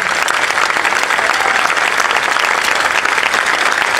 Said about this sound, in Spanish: Quiero un aplauso enorme para ellos.